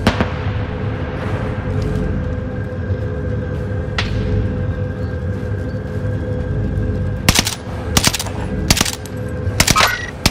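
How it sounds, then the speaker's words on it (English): Gunfire in Call of Duty: Modern Warfare, with a steady low rumble of game ambience, one sharp crack near the four-second mark and then several loud, close bursts of shots clustered toward the end. "I shot him through the wall"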